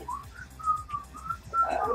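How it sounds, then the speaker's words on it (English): Someone whistles a short, wandering tune up close, a series of clear notes with brief gaps, over a low background hum. "Whistling to yourself"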